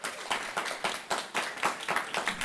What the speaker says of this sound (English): So give a huge round of applause to Antoine, Denisha, Tyra,